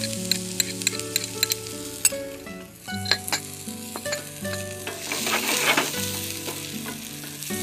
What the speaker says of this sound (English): So now we are going to add some shallots.